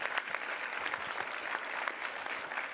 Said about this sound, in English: Let's give her a round of applause as well.